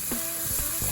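Onions sweating in a pan for ravioli lasagna, a brief steady hiss of sizzling with a few soft stirring thumps, close and continuous, no talk.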